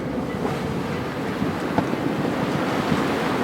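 Rough open sea washes around a sailing boat at dusk, a steady broadband roar of churning waves and wind with no clear breaks, loud and close throughout.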